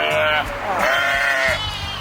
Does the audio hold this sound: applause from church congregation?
no